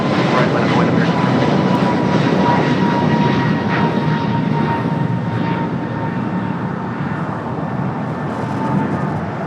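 An airliner takes off from LAX runway 25 Right, a loud, sustained jet engine roar that holds strong and then eases slightly as the aircraft pulls away, with faint background voices.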